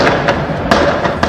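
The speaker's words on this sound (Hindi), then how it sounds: "बेखौफ बदमाश किसी की परवाह किए बिना ताबड़तोड़ फायरिंग करते रहे।" Robbers firing rifles in a town: loud, sharp shots cracking at an uneven quick pace, several in little more than a second, over a rough, noisy background.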